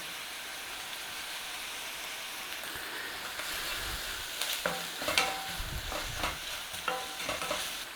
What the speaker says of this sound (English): Just cook out the rawness of that onion, if you're using onion